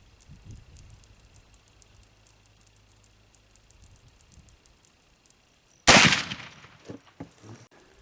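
A Lyman Great Plains muzzleloader rifle fired outdoors with homemade mesquite-blend black powder, one sharp, loud close-range shot after several quiet seconds, followed by a short fading rumble.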